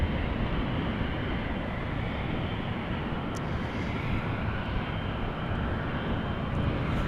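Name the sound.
Boeing 777 aircraft taxiing to the runway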